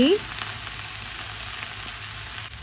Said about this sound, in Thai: เราใส่น้ำปลาโดยตรงไปที่กระทะเลยเพื่อให้ได้กลิ่นหอม